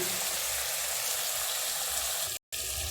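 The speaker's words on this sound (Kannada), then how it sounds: "ಒಂದು 2 ಮಿನಿಟ್ಸ್ ಅಷ್ಟು ಆಯಿಲೆಲ್ಲ ಡೀಪ್ ಫ್ರೈ ಮಾಡ್ಕೋಣ" Brinjals deep frying in hot oil, a steady close hiss of bubbling and sizzling that holds without pause, cut by a brief total dropout near the end.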